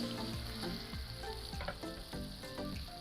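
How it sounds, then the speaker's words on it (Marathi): Rawas fish fillets fry in a hot pan for a Marathi seafood feast, a steady close sizzle and crackle running the whole time with no one talking. "चला मित्रांनो आता आपण रावस फ्राय करायला घेऊयात"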